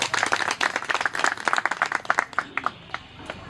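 Applause from a gathered crowd at a school reunion, dense clapping that gradually thins out to a few scattered claps within a few seconds.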